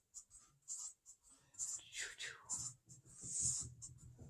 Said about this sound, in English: Just sketch this out again